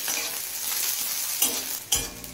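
Onion with four slit green chillies frying in a pan for a Bengali loti posto dish, a loud continuous sizzle broken by a few sharp spoon scrapes and clatters.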